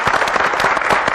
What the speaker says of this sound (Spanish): me gustaría pedir al público un gran aplauso cariñoso